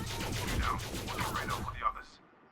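Gunfire during a planetary-surface mission in the space game Elite Dangerous: a loud, continuous fusillade of rapid shots that stops abruptly after about two seconds.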